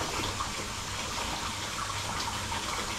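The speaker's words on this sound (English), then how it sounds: "I'll just wash my hands." Water running steadily from a kitchen tap while someone washes their hands after handling raw steak, a continuous close gushing hiss with no speech.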